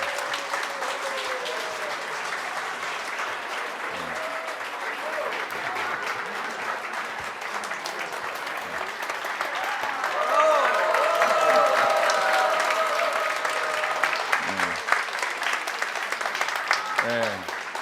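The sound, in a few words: congregation applauding to welcome a family in church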